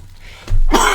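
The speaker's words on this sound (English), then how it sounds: "Boy, I hate those coughs." A single sharp cough bursts out close to the microphone after a brief quiet moment.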